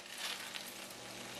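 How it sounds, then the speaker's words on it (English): Pot of water for spaghetti nearing a rolling boil, giving a steady close hiss and roil with no pauses, heard alone. "It's almost at a rolling boil."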